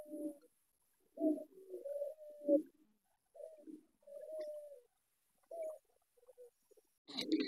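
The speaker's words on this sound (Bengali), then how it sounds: "দেখেন কবুতর দুইটাই কিন্তু অনেক সুন্দর।" Pigeons of the Golla breed coo in a run of soft, throaty phrases, close and clear, with brief pauses between calls and a sharper burst near the end.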